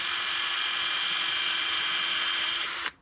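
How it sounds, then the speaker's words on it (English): A power drill whines steadily at high speed for a few seconds while drilling a small pilot hole in wood, then winds down and stops abruptly. "I like to just drill a wee hole there"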